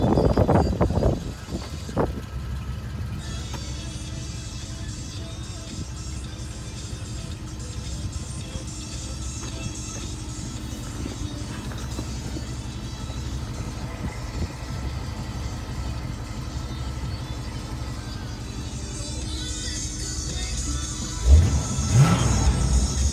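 1957 Chevrolet Nomad engine running steadily at an auction center in Miles City, Montana, with a low rumble throughout and a brief louder rev near the end.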